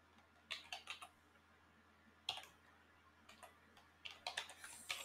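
Sparse bursts of computer keyboard typing entered in short clusters with pauses between, light close clicks in a quiet room with no talking.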